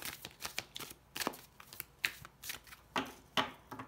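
Tarot cards shuffled by hand in a quick run of crisp riffling and flicking bursts, close up and fairly quiet, with no voices.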